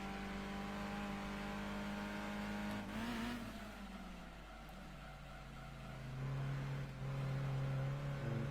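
Race car engine in the video game Gran Turismo 2, a steady synthetic engine drone with tonal whine that drops in pitch as the car slows for a hairpin and then climbs again.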